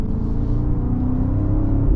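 A 2024 BMW X5 M60i SUV's engine accelerates with a steady, loud, deep rumble and rising whir, heard from inside the cabin with no talking.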